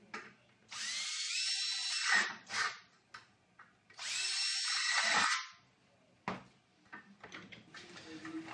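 A power drill bores holes into steel trunking in two separate passes, each a high whining grind lasting about one and a half seconds, close and clear, with small clanks and handling noises between.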